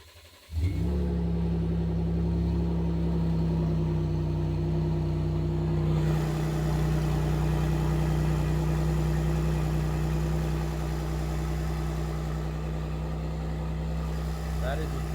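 A Ford Raptor's engine runs steadily with its valved exhaust open, a loud, close, deep rumbling idle that holds constant for the whole stretch, its tone brightening slightly partway through.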